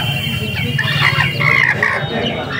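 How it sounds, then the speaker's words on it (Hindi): Chickens at a Sunday animal market, including a hill hen with eight chicks, cluck and chatter in a busy, overlapping flurry of short calls, close by and fairly loud. "मुर्गी के बच्चे छोटे छोटे चूजे देखिए।"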